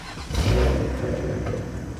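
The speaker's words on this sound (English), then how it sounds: "Obviously, we got to turn the car on first." A BMW car engine fires up, a quick crank then a loud catch and rev, settling into a steady idle, close and alone.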